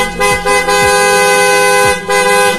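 An aftermarket PIAA horn on a Raider 150 motorcycle blares loud and close in several long, steady honks separated by brief gaps.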